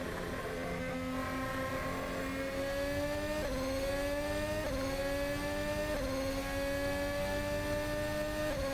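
Race car engine on an out lap, a steady loud whine climbing in pitch with brief dips at each upshift, three shifts in quick succession, close and continuous.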